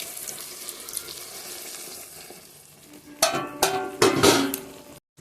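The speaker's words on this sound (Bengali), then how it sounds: "এবার আমি সর্ষার জলটা এর মধ্যে দিয়ে দেবো" Strained mustard water pours into a cooking pot in a home kitchen, first a soft hiss and then several splashing gushes near the end, close and fairly loud.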